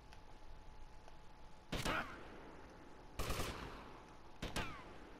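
Three separate loud gunshots ring out from GTA Vice City, spaced about a second and a half apart over a faint steady background hum.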